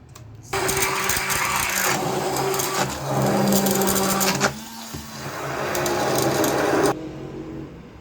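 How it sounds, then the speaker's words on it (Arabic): A hand blender or mixer blends lentil soup, a loud steady motor whir with a shifting pitch as it churns, running continuously for about six seconds before cutting off. "اما باللي هتعمليه بالميكسر او بالهاند بلندر، فايه اعملي اضربي على طول"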